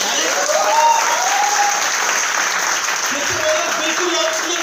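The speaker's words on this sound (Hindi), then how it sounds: "ताली बजा लीजिए" A seated audience at an investment scheme presentation breaks into steady, loud applause that holds evenly throughout, with crowd murmur and a faint tonal whine mixed in.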